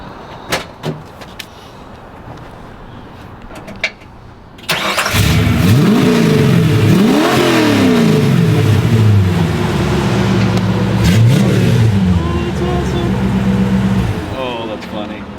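V8 swapped into an 80s Ford wagon with headers and exhaust, stock 94 F-150 motor with a high cam, starts up loud after some clunks and people talking, then idles and revs roughly with rising and falling engine pitch.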